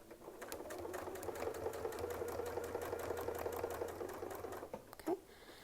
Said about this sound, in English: So here, let's go ahead and we'll stitch all the way down.